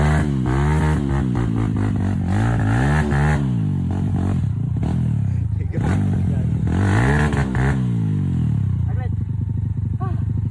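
Hard enduro dirt bike engine revving and straining on a slippery muddy trail, loud and close, rising and falling in repeated bursts of throttle throughout, with a voice talking over it.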